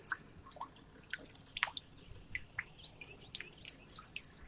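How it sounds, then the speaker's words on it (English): Liquid waste dripping at an open oil tank facility, a scattered series of small, fairly close drips and splats at irregular intervals over a faint steady background hiss, with no voices. "Dripping waste content"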